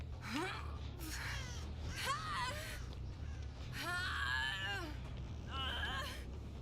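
Crows caw in Dead by Daylight, several harsh rising calls in short bursts spread over a few seconds above a low steady background hum.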